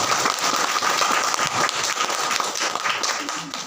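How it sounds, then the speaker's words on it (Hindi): A church congregation at an Easter Sunday service claps loudly in a thick, continuous burst that tapers slightly toward the end. "एक बार जोरदार ताली बजाएं।"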